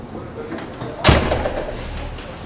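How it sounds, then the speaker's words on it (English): A button-operated electronic door in a building in Florence, Italy gives one loud, close clunk midway, followed by a softer fading rumble over a steady background hiss. "this is the electronic door here"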